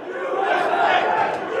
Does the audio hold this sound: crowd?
yes